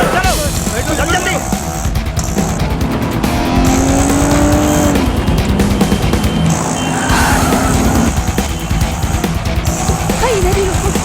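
A car races off with tires squealing and the engine roaring loudly for several seconds, mixed with shouting voices and dramatic noise.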